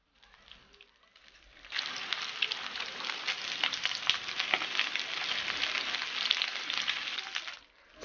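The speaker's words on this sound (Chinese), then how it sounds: "这里用小火慢煎" Pork ribs coated in egg and potato starch pan-fry over low heat in hot oil: a quiet start, then a steady, crackling sizzle that holds evenly for several seconds before cutting off.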